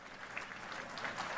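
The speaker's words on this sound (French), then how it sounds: "Le public applaudit." An audience applauds after a speech, a dense, steady wash of many hands clapping that holds at an even, moderately faint level throughout.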